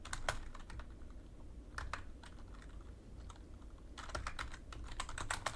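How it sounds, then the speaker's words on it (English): Rapid clattering keystrokes on a computer keyboard, close and steady, with dense bursts of typing at the start and end around a lighter middle stretch, and no voices. "I'm just going to type in Pastor Online."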